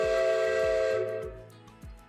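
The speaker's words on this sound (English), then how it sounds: "Thomas blew his whistle as loudly as he could." Thomas the Tank Engine's steam whistle blows one long, loud, steady chord that fades out, followed by steady rhythmic chuffing, with no voices.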